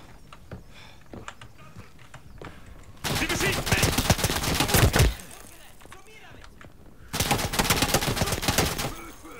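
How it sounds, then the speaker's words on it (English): Video game DoI gunfire with shots coming through a wall: two loud bursts of rapid automatic fire, each lasting about two seconds, separated by quieter stretches of faint ambient crackle. "Why is he actually shooting through the wall at me?"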